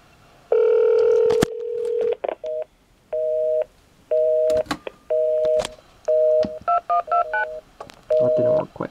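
Keypad tones from a BellSouth CI7112 Visual Director caller ID unit, a long tone and then a run of short, evenly spaced beeps ending in a quick cluster of tones, loud and close.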